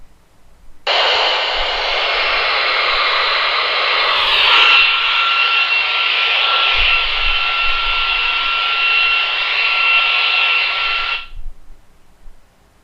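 Radio static from a Kinnota R5 Mini handheld with its squelch opened: a steady, loud wash of hiss that starts abruptly, holds for about ten seconds with faint whining tones inside it, then cuts off.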